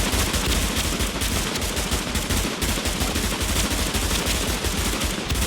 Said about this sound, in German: Okay, ich glaub dir, dass du schießen kannst.